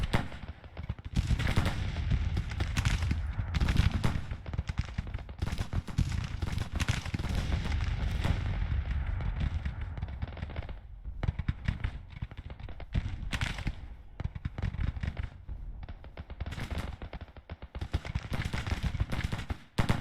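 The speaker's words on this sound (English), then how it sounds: "Now they're firing at him." Musket volleys crackle continuously across the battlefield in Grand Tactician: The Civil War, at the Champion Hill battle. Dense, overlapping rifle shots rattle from mid-distance for the whole stretch with no talk.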